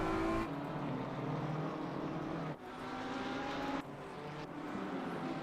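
Race car engines roar steadily in a racing video game at Watkins Glen, accelerating hard out of corners, with a loud continuous drone that shifts pitch at a few points as the cars change gear or pass.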